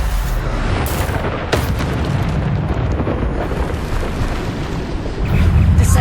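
Bombarda, an explosive spell cast in Hogwarts Legacy, sets off loud, booming blasts that roll continuously, with sharp bursts layered on top and a heavier thump near the end.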